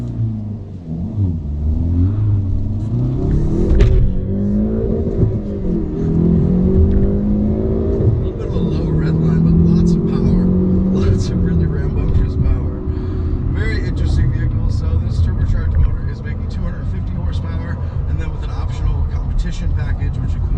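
A 2019 Hyundai Veloster N with Performance Package, six-speed manual in N mode, drones and revs steadily through the whole stretch, engine note rising and falling under continuous talk from inside the cabin.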